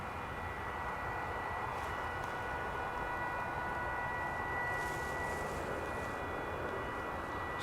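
A Boeing 737-800 airliner at DFW Airport rumbles as a steady, broad engine roar, a continuous wash of noise with faint high whines, moderately distant and unbroken throughout.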